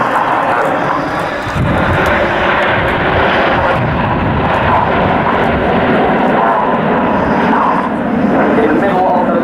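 Red Arrows Hawk jets roar overhead in a flying display formation at an RAF Waddington airshow, a loud continuous broad jet rumble that holds steady throughout, with a commentator talking over it.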